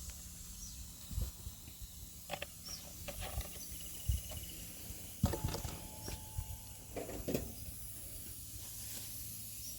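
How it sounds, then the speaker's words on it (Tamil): Chilli chicken, prepared with roasted gram, sizzles in hot coconut oil with a steady close hiss broken by scattered sharp crackles and pops. "சில்லி வந்து தேங்காய் எண்ணெயில் பொரிக்கிறேங்க."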